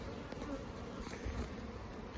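Honeybees buzz around their hives at an apiary, a faint, continuous hum of many insects close by with no voices.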